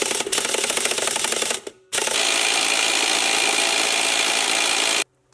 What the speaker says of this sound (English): I'm just going to start undoing bolts and see how far I get.